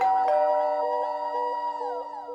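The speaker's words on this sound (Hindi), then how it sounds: "अबे डोरबेल बज रही है, तू फोन देख रहा है।" A two-tone doorbell chime rings clearly on its own in an indoor home setting, ding-dong notes sustaining and repeating with a bright ringing decay.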